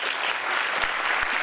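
A dense, steady wash of audience applause at a 2016 inaugural gala, thanking a jazz trio after their performance; the clapping holds at an even level throughout with no talking.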